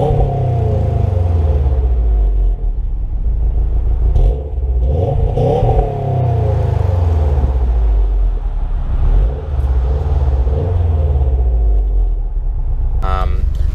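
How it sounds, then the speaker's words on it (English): A 2017 Subaru WRX STI on its stock exhaust revs repeatedly, deep rumbling swells climbing and falling in several loud, close blips with a steady idle between them. "I'll put some clips of just some revving here, the stock exhaust"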